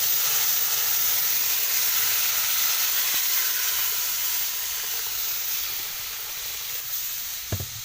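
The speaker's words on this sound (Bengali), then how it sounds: "এবার জল দিচ্ছি।" Water poured onto fried potatoes in a hot pan sets off a continuous loud steam hiss that stays fairly even, then eases slightly near the end with a small knock.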